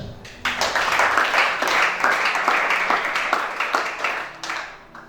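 A congregation at a church worship service in Gabon breaks into applause, a thick, continuous clatter of many hands with a few sharper claps standing out, fairly loud and steady for several seconds.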